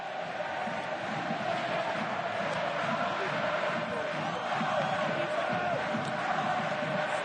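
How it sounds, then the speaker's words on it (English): Rugby stadium crowd at Stade Chaban-Delmas during a Bordeaux Bègles versus Bayonne Top 14 match, a steady, dense roar that holds loud and unbroken throughout. "Here come the crowd."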